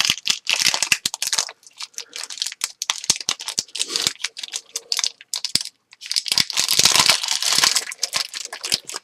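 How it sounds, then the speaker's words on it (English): Loud, close crinkling and crunching of a cheese package being torn and opened in a kitchen, steady rustling bursts with one short pause midway. "Let me open the package here."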